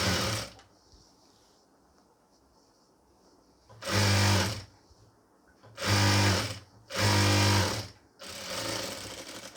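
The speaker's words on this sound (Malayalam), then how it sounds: "ഈ ഒരു ബാക്ക് പീസിൻ്റെ ഈ ഒരു ഭാഗം നമുക്കൊന്ന് പതിച്ചു അടിച്ചു കൊടുക്കാം" Sewing machine stitching the back piece of a pleated nightie, running in three loud bursts of steady, even whirring separated by short pauses, with a fourth, quieter run at the end.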